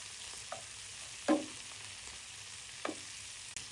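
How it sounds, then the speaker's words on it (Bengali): Onions frying with fish in a pan are stirred, giving a faint steady sizzle broken by a few soft scrapes of a spatula, spaced well apart, with no voices. "পেঁয়াজগুলো এবার আমি ঘুরিয়ে দিচ্ছি"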